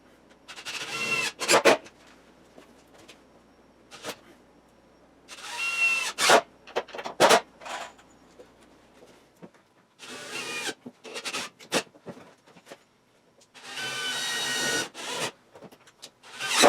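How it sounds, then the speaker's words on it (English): A screwdriver drives screws into the wooden foundation of a chicken coop, giving several separate bursts of whirring and rasping over about seventeen seconds, with quiet gaps between them and no talking. "I'm going to get the screwdriver and tack that on."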